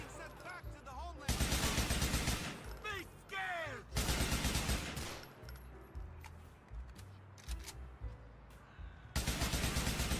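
Bursts of automatic gunfire from GTA4 come in several loud volleys separated by quieter gaps, mixed with in-game sound effects and voices.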